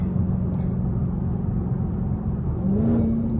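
Straight-piped Dodge Hellcat widebody pulls under acceleration with a steady, loud, deep exhaust drone heard from inside the car, rising slightly in pitch toward the end as it gains speed.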